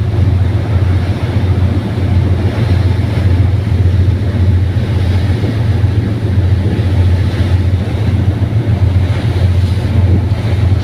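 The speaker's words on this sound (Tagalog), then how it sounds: "ginabagtas pa namin ang dagat papuntang Masbate" A boat crosses the open sea toward Masbate near Ticao, its engine a steady, loud low drone. Wind buffets the microphone throughout, with no one speaking.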